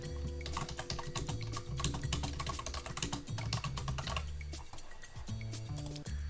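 Rapid typing on a computer keyboard, close and clear, with a fast irregular patter of key clicks continuing throughout with only brief pauses.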